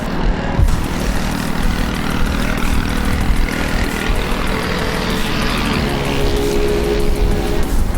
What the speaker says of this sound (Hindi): ये देखें आप, ट्रैफिक है अच्छा खासा